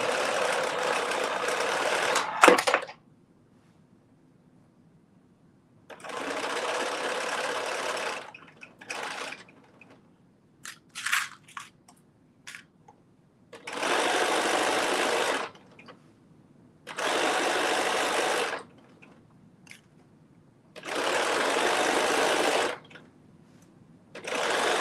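A sewing machine runs a 5/8 inch seam in repeated bursts of steady whirring, each lasting a couple of seconds, separated by pauses with faint handling clicks; close and fairly loud.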